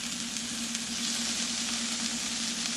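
Strips of bison heart fajita meat sizzle hard in a hot pan, a loud, steady frying hiss with no talk.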